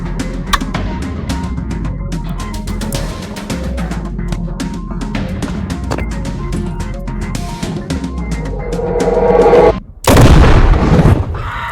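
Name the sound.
fireworks exploding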